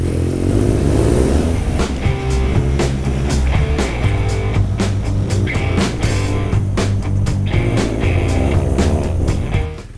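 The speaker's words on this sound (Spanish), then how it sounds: "Es una moto de enduro, pero bueno," A BMW R nineT Scrambler motorcycle is ridden off-road. The engine runs steady and near, with repeated revs and throttle blips over about ten seconds of riding.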